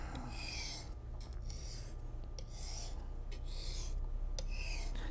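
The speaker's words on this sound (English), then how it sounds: "with a very slight angle, I'm going to work from the tip of the blade and work down the knife." A boning knife is drawn across a sharpening surface at a slight angle, working from tip to heel along the back of the blade. The strokes are quiet, repeated and raspy and come close together, with no talking.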